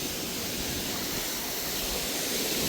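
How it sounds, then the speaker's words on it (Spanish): A waterfall pours as a continuous, even roar of rushing water, broad and steady throughout, with no voices. "mira qué cascada más linda"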